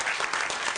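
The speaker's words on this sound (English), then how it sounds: "can we give Assemblywoman Fiona Ma a round of applause?" Brief, steady applause from an audience at a healthcare disparities briefing honoring an assemblywoman, a dense wash of clapping at moderate distance.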